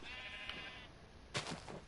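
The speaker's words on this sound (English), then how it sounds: "Nice sheep." Sheep bleating in Minecraft, two faint wavering bleats, the second near the end slightly louder, heard alone with no talk.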